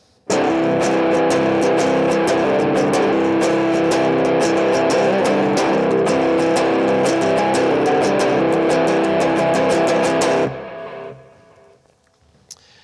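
A heavily distorted electric guitar in drop C tuning plays a low, chugging riff with rapid palm-muted hits, then cuts off abruptly and rings out into near silence.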